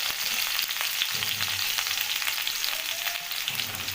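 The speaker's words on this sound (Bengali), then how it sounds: "বেগুনগুলো ছেড়ে দিচ্ছি" Eggplant pieces frying in hot oil together with potatoes, giving a steady, dense crackling sizzle that runs throughout with faint stirring scrapes and no voices.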